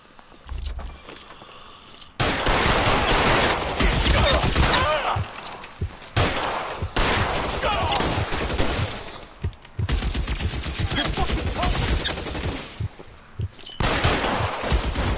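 Video game gunfire with heavy sustained bursts of automatic weapon fire and shots in a police shootout, loud and close, broken by brief pauses between volleys.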